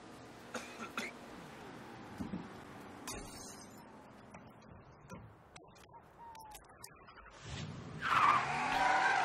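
A car in the Mafia 3 video game screeches off with tires squealing, then revs up loudly near the end, mixed with scattered game sounds, clicks and faint bird calls.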